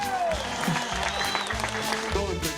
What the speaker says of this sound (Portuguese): bora aplaudir a São Francisco de Assis!